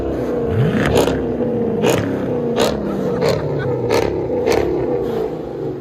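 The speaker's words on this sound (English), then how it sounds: "We got a rev off." A 2005 Chrysler 300C with a 5.7L HEMI V8 and Flowmaster Outlaw dual exhaust revs repeatedly outdoors, about seven loud rising bursts in quick succession over a steady idle rumble.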